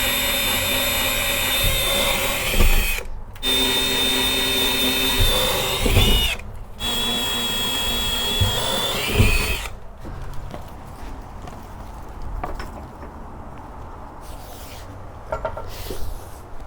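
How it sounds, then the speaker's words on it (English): A power drill runs in long steady bursts while drilling mounting holes for a 12V air conditioning unit on the back of a van, with brief pauses between bursts and then quieter scattered clicks and knocks. "So we are going to drill the other holes and get this thing mounted."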